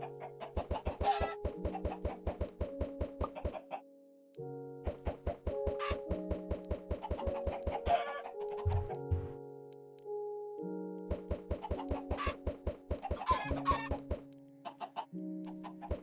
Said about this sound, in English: chickens have to be the easiest resource to keep around